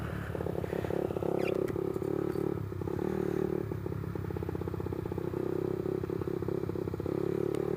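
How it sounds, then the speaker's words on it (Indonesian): A modified carburetted Suzuki Satria FU motorcycle engine with a rough, uneven, burbling note revs steadily and close by, a loud continuous rumble with rattling pulses throughout. "Suaranya ya udah kayak mesin oprekan ya"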